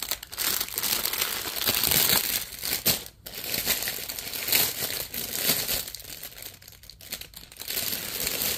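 Plastic packaging from a cross-stitch supply haul is handled up close, with loud, continuous crinkling and crackling that rises and falls in irregular bursts.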